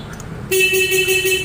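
Horn of a new Kymco Skytown 150 scooter blares once, loud and close, a steady car-like honk after a short stretch of idle background noise.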